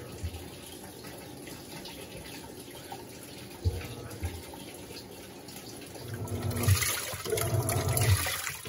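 A Panasonic 14 kg top-loading washing machine fills with water for the rinse cycle, a steady close rush of inflowing water that swells louder toward the end, with no talking.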